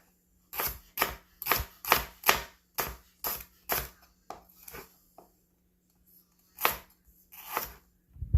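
A sharp kitchen knife chops through food in about a dozen crisp, close strokes, a quick run of cuts followed by a few slower ones after short pauses, with no talking.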